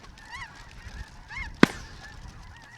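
Snow geese honk in a few nasal calls during a hunt in Canada, with one sharp, loud crack of a shotgun blast cutting through midway before more distant honking follows.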